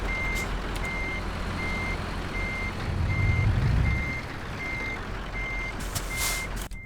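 Truck reversing beeps in Euro Truck Simulator 2 sound at a steady, evenly spaced rhythm over a continuous engine drone, with a brief low hiss of air brakes partway through.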